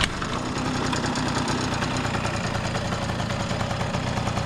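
A cold 1982 two-stroke moped engine fires and settles into a steady, rough idle with a fast mechanical patter, close and continuous throughout.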